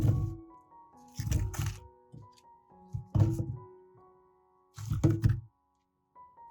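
Garlic cloves, part of a kilogram batch for pickling, are set into a clean pot, making several distinct hollow thunks and knocks in bursts with quiet gaps between, close up.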